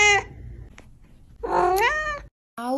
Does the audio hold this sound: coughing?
no